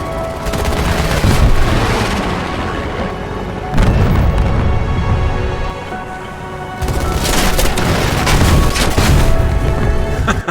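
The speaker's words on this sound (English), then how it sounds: "And what an incredible mid-air collision." Heavy booms and crackling gunfire-like blasts accompany a mid-air collision of fighter aircraft in Pacific combat footage, loud and continuous in two long bursts separated by a brief lull.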